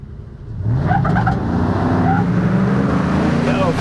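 A tuned Coyote V8 Ford F150 launches down a drag strip in four-high, its engine rising from a low rumble into a loud, sustained roar as it pulls away, with voices faintly underneath.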